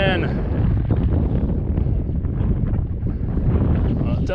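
Strong wind roars steadily over the microphone while power-kiting on inline skates outdoors, a loud continuous buffeting rumble that fills the whole clip.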